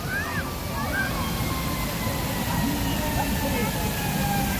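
Water jets from Chicago's Crown Fountain splash in a continuous loud wash outdoors in a busy plaza, with people's voices and chatter mixed in over the constant spray.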